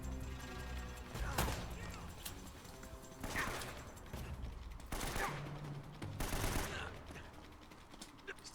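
AK rifle gunfire in Uncharted: Drake's Fortune, several scattered bursts and single cracks over a low game soundscape, fairly quiet and mid-distance, with intermittent talk over it.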